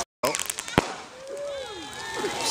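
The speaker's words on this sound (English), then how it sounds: "We got fairgrounds, fireworks right here on the front porch." Fireworks crackle and bang nearby from a front porch at a Fourth of July block party, with sharp pops followed by whistling, fizzing trails, and a voice speaking faintly underneath.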